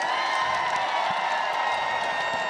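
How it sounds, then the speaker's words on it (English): Crowd applause and cheering for the player of the match at a women's professional volleyball game between LOVB Omaha and LOVB Madison, a steady wash of clapping and voices filling the arena throughout. "How about a little round of applause here,"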